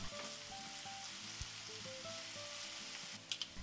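Shallots fry in olive oil in a pan, giving a soft, steady sizzle that stays quiet, with a couple of brief louder crackles near the end and faint low tones beneath.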